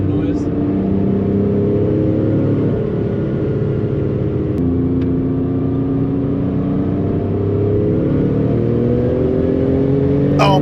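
A Porsche 993 Turbo engine pulls hard under acceleration, its loud close drone climbing steadily in pitch, with a short turbo blow-off hiss near the start and again at the end.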